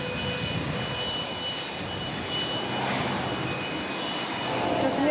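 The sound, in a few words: airplane engine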